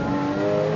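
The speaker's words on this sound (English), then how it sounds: "Awesome sound. Listen to that engine." A Lotus sports car engine revs loudly and steadily up close, with a smooth, rising tonal drone over the short moment and no speech.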